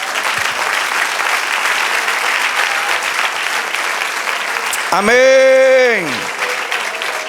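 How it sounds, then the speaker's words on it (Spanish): Church congregation applauding the Lord during a sermon, a steady wash of clapping through most of the clip under a preacher's voice, with a loud sustained sung or shouted tone rising near the end. "Denle un aplauso al Señor."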